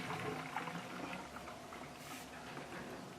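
Water running through the inlet and outlet pipes of a catfish farming pond, a steady close bubbling, splashing flow that holds an even level throughout, with no voices.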